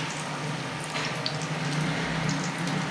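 Vada sizzle and bubble in hot oil over a slow flame, a steady, fairly soft frying hiss with no one speaking.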